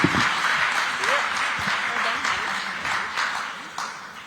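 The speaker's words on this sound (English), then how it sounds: "A big round of applause, everybody." Audience round of applause after a panel conversation on Indian women's cricket, brisk clapping from a hall crowd, loud and steady, with voices and a short cheer mixed in near the start.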